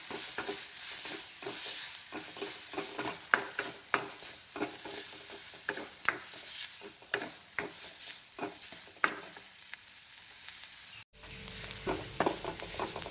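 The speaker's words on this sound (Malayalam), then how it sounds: "അതിലേക്ക് ചെമ്മീനും കൂടി ഇട്ട് കൊടുക്കുന്നുണ്ട്. ഇതൊന്ന് നന്നായിട്ട് വറുത്തെടുക്കാം" Dried prawns frying in coconut oil in a pan, stirred with repeated scraping strokes over a soft, continuous sizzle, close but fairly quiet, with a brief break toward the end.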